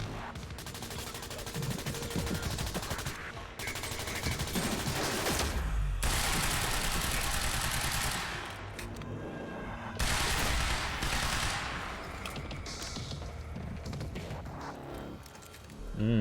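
Sustained light machine gun fire in the game Quantum Break, dense and continuous bursts with brief pauses between long volleys.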